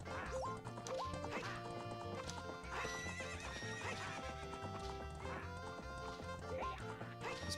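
A horse gallops with rhythmic clip-clop hoofbeats and neighs in Zelda: Ocarina of Time, layered over continuous game music throughout.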